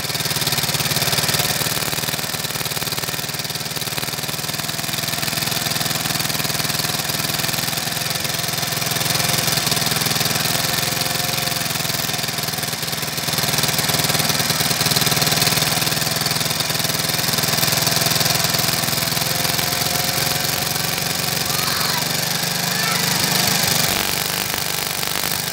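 A motorcycle engine with a modified ignition coil runs steadily, a close, continuous idling drone with slight swells in loudness and no talk over it.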